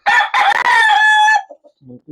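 Close and loud, a gamecock lets out a full crow in broken bursts at an illegal cockfight, followed by soft clucks and brief low sounds.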